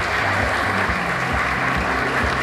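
A school district Teacher of the Year event audience gives a primary school teacher a loud, dense round of clapping that holds steady for the whole stretch, with no voices over it.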